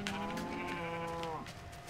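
Sheep in the video game Minecraft bleat in a drawn-out, wavering call lasting over a second, close and clear against a steady background hum.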